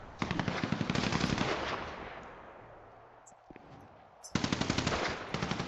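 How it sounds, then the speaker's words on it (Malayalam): Video-game machine guns fire loudly in two rapid bursts of evenly spaced shots, the first fading into a quieter stretch before the second burst breaks in sharply near the end. "എല്ലായിടത്തും വെടി വിട്ടു വന്നല്ലോടാ."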